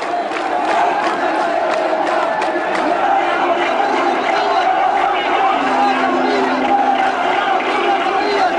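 A large enthusiastic crowd roars and cheers in central Tripoli, a dense, continuous wall of voices and shouts, loud and close throughout with no pauses.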